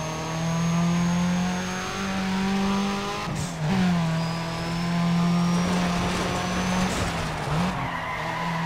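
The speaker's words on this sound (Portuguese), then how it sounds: "o barulho da turbina é muito bonito" Car engine with a turbo whine in the racing video game Need for Speed ProStreet, a loud sustained engine drone with shifting pitch, gear changes and tire squeal, no talk.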